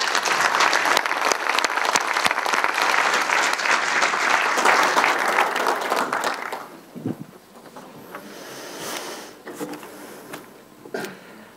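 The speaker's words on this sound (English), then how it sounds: "I think we need one more round of applause." Loud, sustained applause from the audience at the RSM OneMBA graduation ceremony for about six seconds, then tapering off into scattered claps and room noise.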